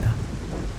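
Deep thunder rumbles with a steady wash of rain, loud and close, with no voices during the brief stretch.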